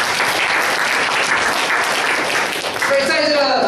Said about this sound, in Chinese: 拍手给上帝哈